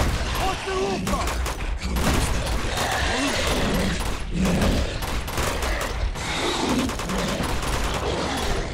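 Dense, continuous gunfire from a firefight in the video game Uncharted 2: Among Thieves: rapid overlapping bursts and single shots crackle loudly throughout, with a busy battle background and no pause.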